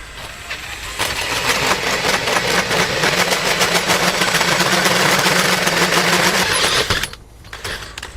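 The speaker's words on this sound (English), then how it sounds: "we'll open that up a little bit more with the die grinder" A die grinder enlarging a hole during a golf cart build: a loud, steady high-pitched whine with a grinding rasp that runs without pause for about six seconds, then cuts off and spins down.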